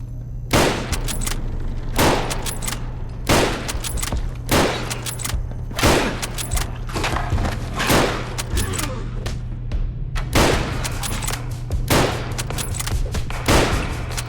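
Repeated gunfire from the video game Fallout: London, sharp loud bursts and single shots cracking out every second or so over a steady low hum, with brief rapid volleys and short pauses between them.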